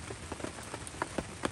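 Steady rain falls on a campsite tent, a dense hiss of drops with scattered louder taps striking the surface, close and continuous with no talking.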